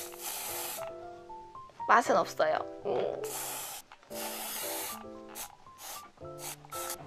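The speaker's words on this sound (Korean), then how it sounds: "에르네뜨의 헤어스프레이라고 미용실에서 진짜 많이 쓰는 로레알 스프레이거든요" L'Oréal Elnett hairspray misted onto hair while setting a curling-iron hippie perm; several short, airy hissing bursts repeat over soft background music, with a brief spoken line in between.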